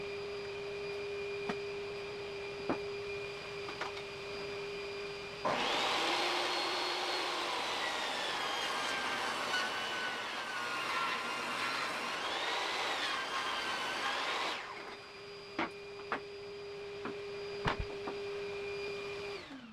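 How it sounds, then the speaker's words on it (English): A saw resawing and ripping a 2x4 board lengthwise, a loud sustained whirring cut lasting about nine seconds between quieter stretches of the blade idling with a steady hum, close up and without talk. "Resaw half with the blade at least an inch up, then flip it around, keeping the same face against the fence, and rip it again."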